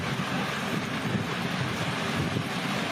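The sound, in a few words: tornado winds hitting a village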